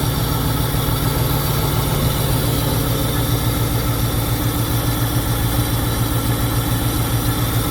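A 1936 Cadillac Fleetwood Series 70 engine idling steadily, heard close and loud as a continuous low rumble with an even, rapid pulse and no voices.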